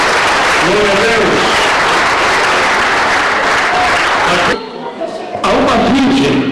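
A church congregation claps loudly and continuously with voices mixed in, the clapping cutting out briefly near the end before resuming with a sung or called-out voice over it.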